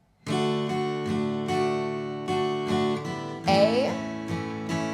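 An acoustic guitar strums the chords of a song in a steady down-up pattern, each chord ringing clearly and close by with a brighter accent near the middle, and no voice over it.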